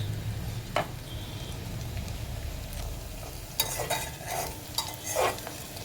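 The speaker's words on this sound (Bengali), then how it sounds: "রসুন আমি এখন ফ্রাই করছি" Garlic fries in a pan for a coriander leaf chutney, a soft steady sizzle under occasional scrapes and clinks of a spoon stirring against the pan.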